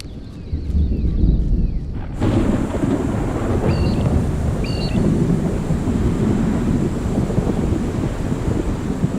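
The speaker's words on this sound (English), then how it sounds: "Thunder rumbles as a storm arrives." Deep rumbling thunder rolls in as a storm arrives over a forest, a loud, continuous roar with wind noise and brief high calls above it.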